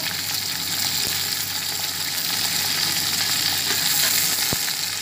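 Salted chicken pieces frying in a pan of hot oil for Sindhi biryani, a steady dense sizzle that holds throughout, close and fairly loud, with a couple of faint clicks and no talking.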